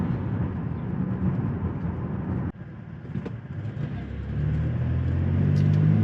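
A car cruises along Main Street, US Highway 84, through small-town Gatesville, Texas, on a light-traffic morning, heard from inside as a steady low road rumble and engine drone that swells slightly toward the end.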